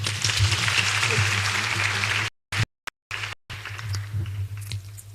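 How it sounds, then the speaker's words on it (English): An audience at a Kenyatta University public lecture claps in a sustained round of applause over a low hall hum, cut by brief dropouts before it resumes more thinly. "Another round of applause"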